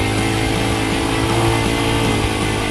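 A Honda CRF 80F dirt bike engine revs steadily while being ridden, producing a loud, buzzing single-cylinder drone close by that holds a fairly constant pitch throughout.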